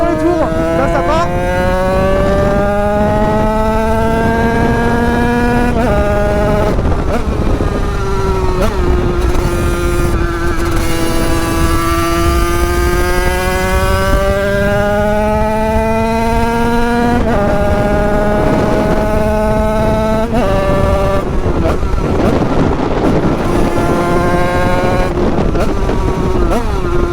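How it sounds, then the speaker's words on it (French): A motorcycle on a wheelie machine revs hard and close, its engine pitch climbing through long sustained pulls, dropping, then climbing again across the clip, loud throughout with faint background voices. "Wheeling, machine à wheeling, ça c'est un truc de fou. Quand ça prend les tours, là ça part."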